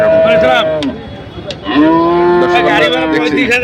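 A bull at a busy cattle market lets out two loud, drawn-out moos close by, the second longer, with crowd chatter and market noise around them.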